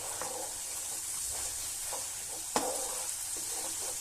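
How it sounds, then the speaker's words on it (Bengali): Ground cumin and other spices fry in a pan for a vegetarian cauliflower curry, giving a steady soft sizzle. Periodic stirring scrapes run through it, with one sharp clink of the utensil midway. "জিরের গুঁড়োটাও আমি সব মশলার সাথে ভালো করে মিশিয়ে নেব।"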